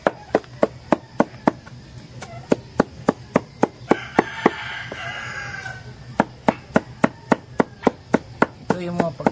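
Banana stem pith is chopped for turkey feed in a steady run of sharp, regular knocks, with poultry calling and crowing nearby partway through.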